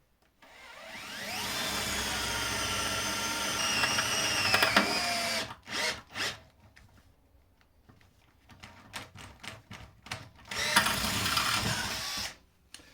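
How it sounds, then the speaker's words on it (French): A cordless drill whines steadily for several seconds drilling a pilot hole on a roof for solar panel rails, then stops and restarts in short bursts before a final sustained run, loud and close. "Donc je préfère faire un pré-trou en 4,"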